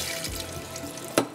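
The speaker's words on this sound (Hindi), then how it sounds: "ठीक है, मैं इसका पानी निकाल लेती हूँ इसलिए कि फिर वो ज़्यादा पानी हो जाएगा।" Water draining from boiled chickpeas through a kitchen strainer, a steady soft wash of pouring liquid with a brief sharper splash near the end, close by and alone.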